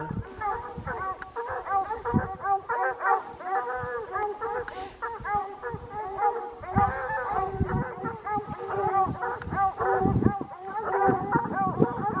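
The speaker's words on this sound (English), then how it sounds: "those looking at it and barking" Several dogs bark and yip in rapid, overlapping bursts at moderate distance, an excited, continuous chorus with a few whines mixed in.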